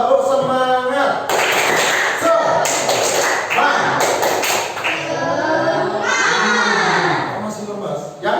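A group of children claps a rhythmic spirit-clap pattern in a classroom, bursts of sharp taps alternating with shouted chanting voices, close and loud.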